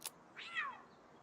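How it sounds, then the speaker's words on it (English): A single distressed cat meow inside a Palworld game, a short rising-then-falling wail that stands alone after a brief click, moderately close and fairly loud. "A cat's not happy, that's for sure."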